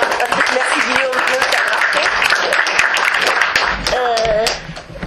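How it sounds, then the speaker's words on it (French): Audience applause for a speaker at an academic conference, a steady patter of clapping with voices talking over it, fading out in the last second. "Oui, on peut effectivement l'applaudir."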